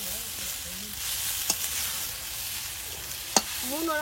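Chow mein stir-fried in a hot pan with vegetables and chicken, a steady sizzle broken by two sharp utensil clanks, close; faint voices murmur in the background.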